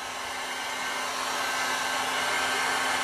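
A heat gun blows hot air in a loud, constant roar with a steady motor whine, unbroken for the whole stretch and close to the listener.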